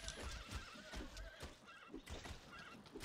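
Horse neighing and whinnying in the Bard's Tale Remastered video game, heard amid a busy, dense fight soundscape with hoof clatter and other game noise, no talk.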